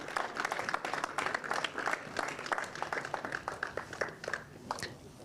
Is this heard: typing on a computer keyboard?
no